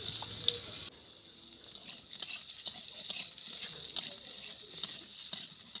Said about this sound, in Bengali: আলুর মধ্যে হলুদ দিয়ে ভেজে নেব।